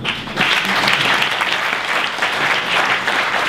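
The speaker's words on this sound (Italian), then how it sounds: "On peut les applaudir" Audience applause at a conference event, loud sustained clapping from a sizeable crowd with no break.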